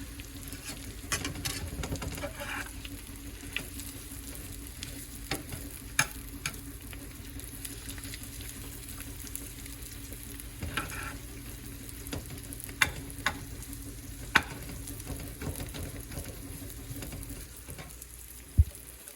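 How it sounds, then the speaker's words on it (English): Spinach and eggs frying in a pan, a faint steady sizzle with scattered small pops and clicks of stirring, quiet and continuous with no talk. "Cooking some spinach and some eggs."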